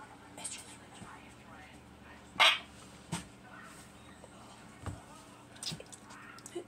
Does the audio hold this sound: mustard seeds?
no